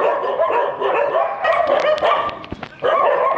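Many Thai breed dogs bark nonstop at a dog care center in Phutthamonthon, Nakhon Pathom, with overlapping yips and barks forming a loud, dense chorus close by.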